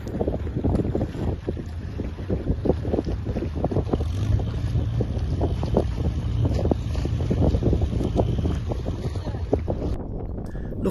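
Strong side wind buffets a narrowboat crossing the Wash at sea, a loud, steady roar of wind on the microphone over the low rumble and churn of the boat, with no one speaking.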